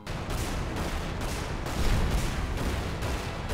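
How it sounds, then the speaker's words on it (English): Dense, rapid gunfire-like blasts from the video game Magicka crackle in a continuous, moderately loud barrage, with no voices. "Can you stop shooting me, maybe, for like a second?"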